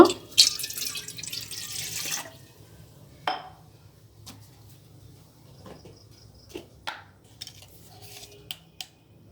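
Water is poured into a wok set on the stove for mixing rice-flour dough for coconut puli pitha. It gives a brief splashing rush, then a few scattered clinks and drips in a quiet kitchen.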